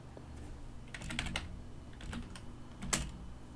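Keys clatter on a computer keyboard while accented capital letters are entered, in short irregular bursts of clicks with a few louder isolated strikes, close and clear with no speech.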